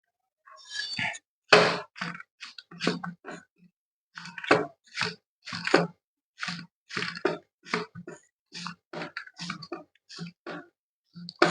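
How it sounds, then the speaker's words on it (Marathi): A knife chops coriander leaves finely on a board in a Kolhapuri dal tadka kitchen, with crisp, close, irregular taps in quick bursts separated by short pauses. "आता कोथिंबीर बारीक करून घ्या."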